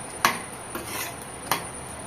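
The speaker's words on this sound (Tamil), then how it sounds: "கரண்டியால் அப்படியே ஒரு தக்காளியாக கரைச்சி விட்டுக்கணும்" Metal ladle scraping and mashing tomatoes in a pot while making sambar, three short close clinks and scrapes spread over about two seconds.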